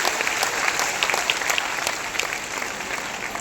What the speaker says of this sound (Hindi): आप सबके लिए एक बार जबरदस्त ताली होना चाहिए